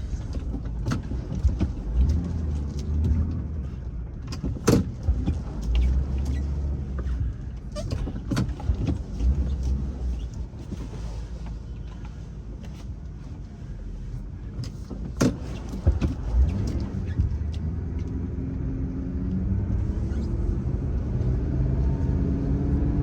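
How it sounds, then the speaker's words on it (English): A truck's engine rumbles steadily as it slowly makes a three-point turn on a narrow road, maneuvering back and forth, with occasional clunks and knocks, close and fairly loud. "Really have to make a 3-point turn here, which is, this road is not very big for my truck"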